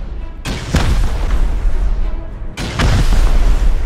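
Two heavy, booming explosions from a rocket raid in the survival game Rust, each a sharp blast followed by a long, loud rumbling roar, close and powerful.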